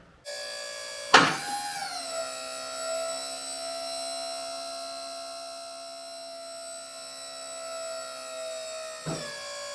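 A tube bender working roll cage tubing through a 90-degree bend gives off a sustained, steady tonal whine with many harmonics, framed by a sharp clank at the start and another near the end, loud and alone.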